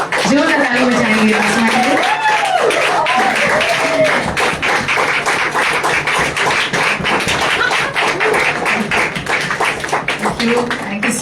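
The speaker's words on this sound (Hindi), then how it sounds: "जोरदार ताली बजाएंगे." Loud, dense clapping from a church congregation at a Mother's Day service, with fast, continuous claps throughout and voices singing or calling out over them.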